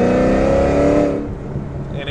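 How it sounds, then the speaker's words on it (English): A boosted Chevrolet SS muscle car running on stock mufflers gives a loud, deep engine roar for about a second, then drops to a lower rumble. "the stock mufflers still sound really great"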